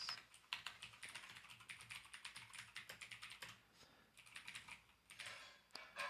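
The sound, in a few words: typing on a computer keyboard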